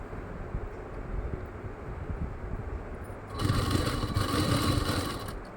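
A sewing machine runs steadily while stitching kurti fabric, with a continuous mechanical whir that grows noticeably louder and denser partway through, with no talking.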